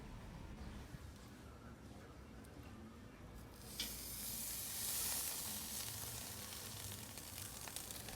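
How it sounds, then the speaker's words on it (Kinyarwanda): Pork pieces on small skewers roasting over an open fire with tomato sauce and salted water, giving a steady close hiss and sizzle that swells louder partway through, without talk. "Murabona ko dutangiye kotsa akabenzi kacu."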